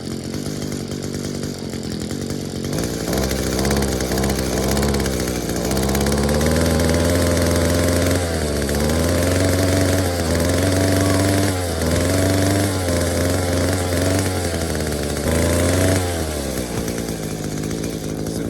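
An Echo SRM 2300 weed eater, a two-stroke string trimmer pulled from the trash, idles loudly and close with a steady buzzing drone, its pitch dipping and rising a few times as the engine hunts.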